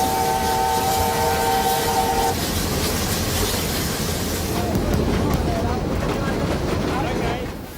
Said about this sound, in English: Two giants of broad gauge and standard gauge steaming together.